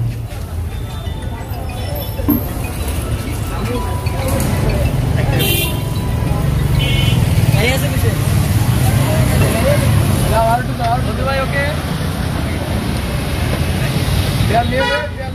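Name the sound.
car engine running after being installed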